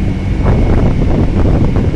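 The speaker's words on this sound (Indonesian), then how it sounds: "Ini anginnya kencang banget nih" Strong wind at a ferry harbour at night, roaring and buffeting against the microphone, a loud continuous low rumble with gusty surges and no voices.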